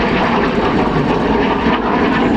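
BAC Jet Provost jet trainer at an RAF Cosford airshow, a loud continuous broadband engine roar that stays steady and close throughout with no talk.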